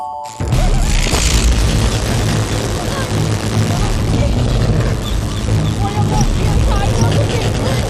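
Loud sustained crash and explosive burst from a film comedy scene where lights blow out, a dense rumbling roar lasting several seconds after a sudden onset, with faint voices mixed in.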